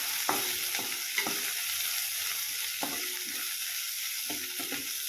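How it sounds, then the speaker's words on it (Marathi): Tomatoes frying in a pan while being stirred for a green pea chutney, a steady sizzle broken by a few sharp spatula scrapes and clicks, close and alone. "टोमॅटो पण आता छान भाजून घ्यायचा आहे"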